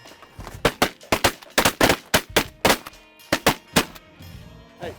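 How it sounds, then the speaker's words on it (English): A rapid string of sharp, close shotgun blasts from hunters shooting at geese, roughly a dozen reports in quick irregular succession over a few seconds, then fading to quiet outdoor ambience. "Nice shooting, guys."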